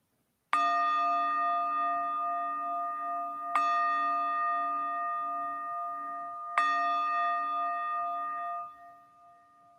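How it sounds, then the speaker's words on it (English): Meditation bell chimes struck three times at even intervals, each a clear ringing tone with layered overtones that lingers and slowly decays, the final strike fading away alone in a quiet room. "We will begin and end this practice with 3 chimes."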